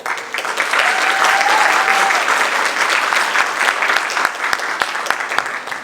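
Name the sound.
audience applause for the Embassy of the Republic of Korea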